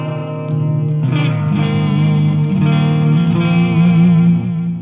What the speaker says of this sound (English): Let's do the delay and the compressor.